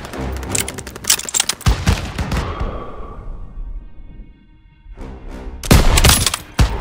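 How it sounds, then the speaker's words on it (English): Heavy gunfire in a Call of Duty WWII battle: rapid bursts of rifle and machine-gun shots crackle loudly, fade briefly into ringing echoes, then resume in another dense volley. "Firing! Get more fire over there!"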